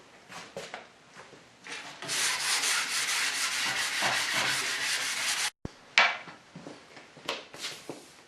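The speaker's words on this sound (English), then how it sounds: "Gotta sand it down a little bit." Hand sanding of a wooden table saw sled runner to fit a miter slot: close, raspy rubbing strokes, a few short passes, then a long steady stretch, a brief pause, and more quick strokes.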